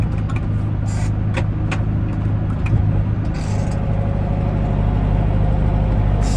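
Farm vehicle hauling manure on a snowy road, put in road gear, its engine running as a steady loud low drone with a constant hum and faint rattling, close up and without talk.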